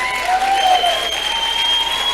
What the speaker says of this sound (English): Thank you for cheering